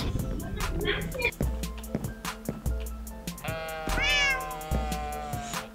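Several cats meow repeatedly, close and fairly loud, one drawn-out cry rising and falling, over background clatter and a voice talking.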